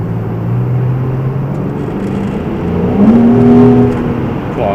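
Porsche 911 engine running nearby, a deep steady rumble that swells into a rising rev around the middle before easing back, loud and without talk.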